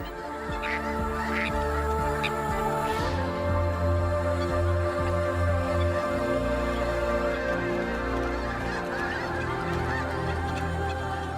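A flock of ducks calls continuously, nasal honking cries overlapping one another at close range, loud and busy with no voices present.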